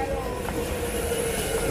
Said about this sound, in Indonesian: Nah, ini kereta.